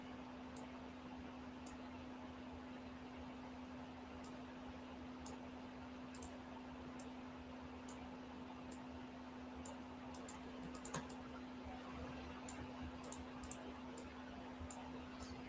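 Faint, sparse computer mouse clicks come in scattered single taps and short clusters while designing in Canva, over a steady low electrical hum.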